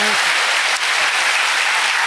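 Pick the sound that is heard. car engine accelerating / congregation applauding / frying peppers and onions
congregation applauding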